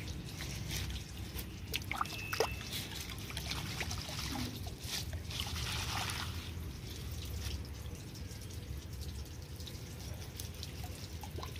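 Water trickles and splashes faintly as soil is washed off freshly harvested vegetables in a rooftop garden. A low, continuous flow sounds with a few brief drips and knocks, and no one talks.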